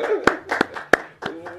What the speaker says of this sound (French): Je pense qu'on a applaudi à la maison